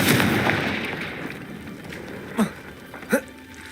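Fiery Confringo spell blasts go off in Hogwarts Legacy during a goblin battle: a rumbling explosive burst that trails away, followed by two short, punchy pops close together.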